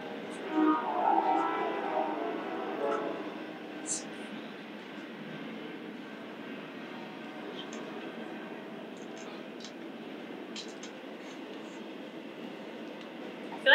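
A train passes outdoors, a broad rumbling wash that swells in the first few seconds and then fades to a faint, steady roar, with some people's voices faintly under it.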